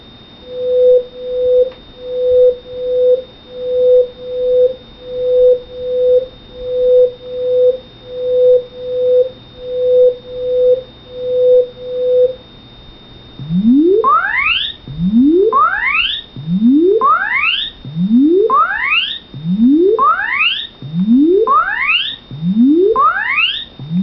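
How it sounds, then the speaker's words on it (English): Test tones from a Nintendo SNES/SHVC sound module test cartridge: a run of evenly spaced short electronic beeps, then a series of repeating rising sweep tones over a thin steady high whine, loud and synthetic with no voices. "This is the SHVC and SNES sound module test."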